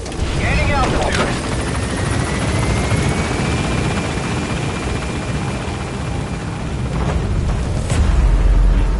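Pequod, the support helicopter in Metal Gear Solid V, lifts off, its rotor thumping loudly and steadily with a whining tone as it gains altitude, under radio-style voices.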